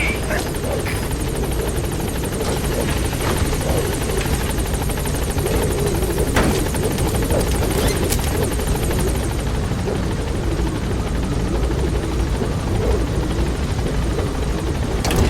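The Pequod helicopter hovering at a landing zone in Metal Gear Solid V, a loud, constant rotor thrum and turbine whine that stays steady throughout, with radio voices heard over it.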